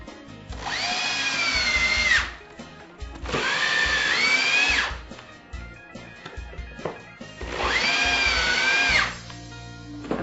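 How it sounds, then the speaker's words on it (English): A power drill runs off a fuelless generator in three separate bursts of a few seconds each. Each burst is a loud, steady whine, with quieter rattling and handling noise in the pauses between them. "Your Fuelless Generator will also be able to power your drill."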